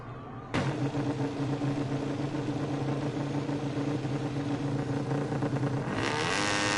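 Motorcycle engines revving together on the starting grid at Twin Ring Motegi in the MotoGP 17 video game: a sharp loud onset into a sustained droning buzz, climbing to a brighter, higher rev near the end.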